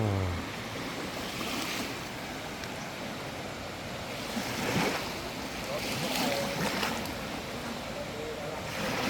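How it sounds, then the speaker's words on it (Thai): A strong, swollen river in rainy-season flood at Vang Vieng, Laos, rushes in a steady broadband roar like surf, with wind buffeting and occasional louder surges throughout. "น้ำแบบสีแดงเลยแล้วไหลแรงมากนะ"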